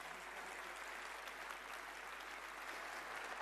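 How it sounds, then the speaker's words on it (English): Sustained audience applause for President Volodymyr Zelensky of Ukraine at the NATO Leaders' Summit in Ankara, a dense, steady wash of many clapping hands filling the hall throughout. "a very big round of applause for the President of Ukraine, Volodymyr Zelensky"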